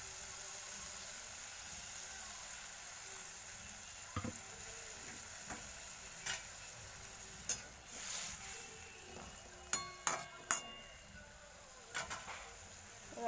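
Pumpkin greens being fried and stirred in a pan for a fish curry, a faint steady sizzle with scattered scraping clicks from stirring.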